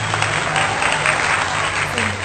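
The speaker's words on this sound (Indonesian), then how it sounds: "Beri tepuk tangan dulu untuk kelompok 1." A classroom group applauds student group 1 after a physics presentation, a dense steady burst of many hands clapping for a couple of seconds, fairly loud and even.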